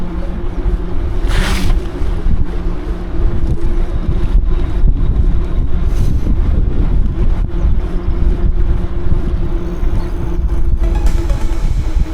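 Strong wind buffets the microphone without a break on the road to Paris-Roubaix, a loud, steady low roar with gusty surges and occasional bursts of hiss, and no voices over it.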